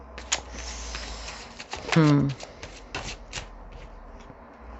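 Tarot card shuffling with soft riffles and rubbing, close by, with a brief louder tonal sound midway and quiet talk in the background.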